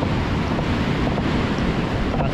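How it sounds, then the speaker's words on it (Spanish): Powerful winter surf breaks on a rocky beach, a steady, loud roar of churning water and wind with no distinct pauses. "pero hay una ola potente"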